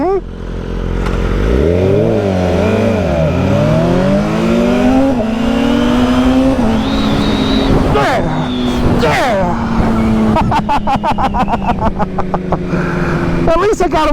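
A 2022 BMW S 1000 RR motorcycle accelerating hard on takeoff, engine climbing through rising gear pulls with sharp upshifts, loud and close with wind noise and brief talk.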